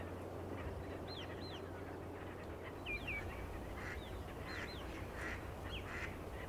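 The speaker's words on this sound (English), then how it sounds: "The Eurasian teal is the smallest of all wild ducks." Eurasian teal, small wild ducks on mudflats at Kinmen, give repeated short whistled calls in a loose irregular series over a steady low hum, moderately distant and faint, with no voices.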